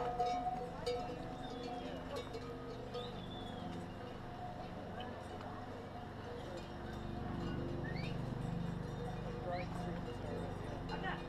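Dzo pack animals on a Himalayan trail near Everest pass by with cowbells clanking irregularly and hooves faintly clopping, under outdoor ambience with people talking nearby.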